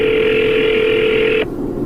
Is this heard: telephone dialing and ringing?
yes